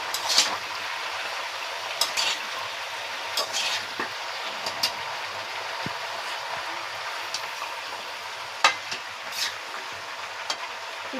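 Vegetables with turmeric and slit green chillies sizzle in a pan, a steady crackling hiss punctuated by sharp spatula scrapes and stirring clicks at irregular intervals, close and fairly loud.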